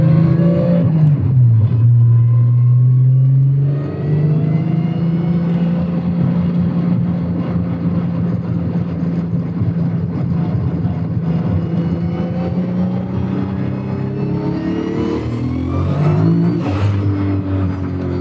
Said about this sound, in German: Krass finde ich, dass trotz geschlossenem Pop-Off das Ding immer noch so abpfeift.